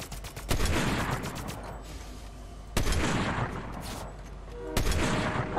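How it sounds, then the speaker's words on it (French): Sniper rifle shots ring out in Fortnite as three loud, sharp cracks spaced a couple of seconds apart, each trailing off into busy game noise. "Oh, c'est trop dur de sniper le train qui bouge, là!"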